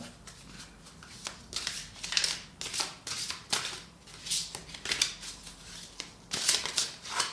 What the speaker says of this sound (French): La deuxième carte que je vais tirer, donc c'est la carte à haute vibration.